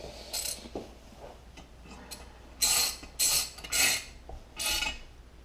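Ratchet tightening bolts on a Briggs and Stratton engine during heat shield and starter cover installation, heard as several quick, close bursts of metallic clicking, with scattered faint clinks of parts between them.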